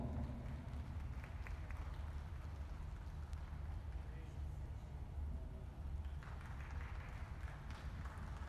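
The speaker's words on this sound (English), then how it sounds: "give these young folks a nice round of applause" Audience at a beef steer show claps in a sustained, even patter of applause lasting several seconds, with a dense crowd wash and talk mixed underneath.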